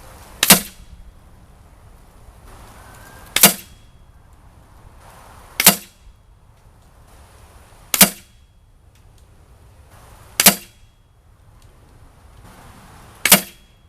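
Six sharp, evenly spaced shots from a Beeman Chief Plus air rifle firing H&N pellets at a squirrel target, each a crisp close crack about two to three seconds apart with quiet between.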